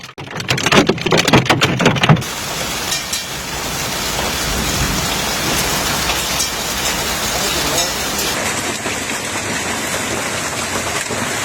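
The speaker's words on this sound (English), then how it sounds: "In the central southern area, normal-sized hailstones began to fall." Hailstones pound down during a hailstorm in Treviso, Italy: about two seconds of loud, dense clattering impacts, then a constant heavy roar of falling ice close by that lasts to the end.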